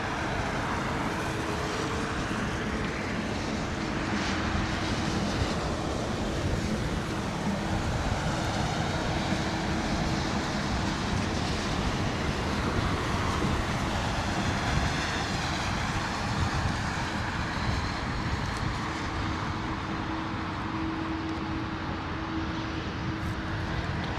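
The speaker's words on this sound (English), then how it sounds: "Beautiful arrival there from the KM Malta A320." A KM Malta Airbus A320 lands at London Heathrow in wet, windy weather, a steady broad roar of jet engine and airflow that holds at a constant level throughout without any talking.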